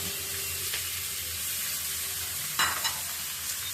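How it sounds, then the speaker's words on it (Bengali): Rice frying in a pan before greens are added, with a steady soft sizzle throughout and occasional stirring scrapes, one louder burst near the end, with no talking. "চাউলটা একবার ভাজা ভাজা হোক তারপরে আমি শাকটা ছেড়ে দেব"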